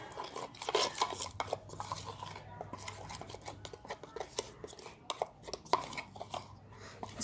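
Curd being stirred into a face pack in a small bowl, a spoon scraping and clinking against the sides in quick, irregular strokes, close and fairly quiet, with no talk.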